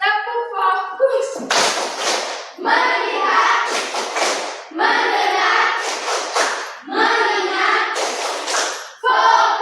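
A classroom of children performs the rhythmic "tepuk fokus" clap chant, sharp bursts of group clapping alternating with chanted words in a quick, regular pattern, loud and close.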